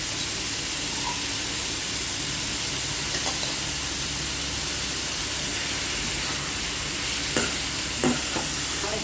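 Shrimp sizzle and fry with onions in a pan, a steady close hiss broken by occasional scrapes and clicks as the mixture is stirred.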